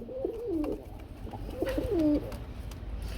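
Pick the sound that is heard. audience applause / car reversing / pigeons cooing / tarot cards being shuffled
pigeons cooing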